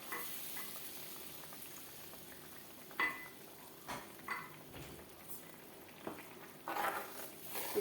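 Green mango curry with ground coconut heats on the stove, giving a faint, soft simmering sizzle punctuated by occasional light clinks and scrapes of stirring.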